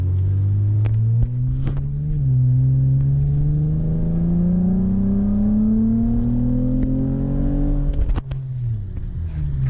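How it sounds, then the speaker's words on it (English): A Nissan 350z four-door engine revs at about three-quarter throttle, a loud steady drone rising in pitch over several seconds before a sharp drop back down near the end. "That was about 3/4 throttle."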